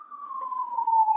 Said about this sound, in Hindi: कचरे वाला आता है सुबह शाम, वरना दोनों टाइम सायरन बजाता है